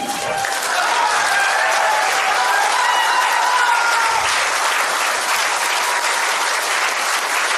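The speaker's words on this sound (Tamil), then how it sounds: "உங்கள் கைத்தட்டல்கள் உற்சாகம்" Loud, sustained audience applause at a Tamil award and felicitation ceremony for a film crew, dense clapping filling the whole stretch without a break.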